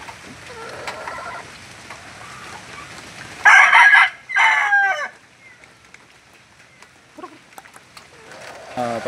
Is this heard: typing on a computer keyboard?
no